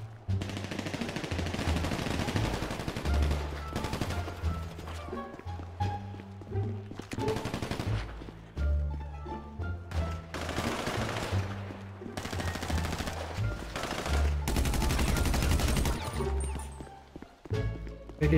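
Gunfire in GTA roleplay (FiveZ zombie server) rattles off in repeated bursts of rapid shots, loud and dense, with short pauses between volleys and faint voices underneath.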